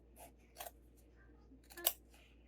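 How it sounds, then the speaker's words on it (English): Fabric scissors snip while sewing a slimline sling, cutting in between stitched lines; two or three short, crisp cuts sound close and fairly quiet against a still background. "and then I switch to my scissors. And I cut halfway down"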